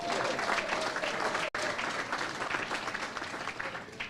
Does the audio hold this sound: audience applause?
yes